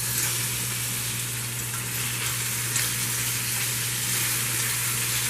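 Oxtails fry in a pan for a crockpot dish, giving a steady, even sizzle with a faint low hum underneath and no talking.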